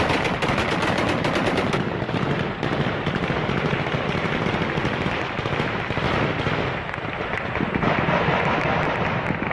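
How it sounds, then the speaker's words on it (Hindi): Celebratory gunfire by Taliban fighters at Kabul airport, heard as a dense, continuous barrage of rapid automatic bursts and overlapping shots that stays loud and unbroken throughout. "अमेरिकी फौज के जाने के बाद तालिबानियों ने एयरपोर्ट पर फायरिंग कर जश्न मनाया"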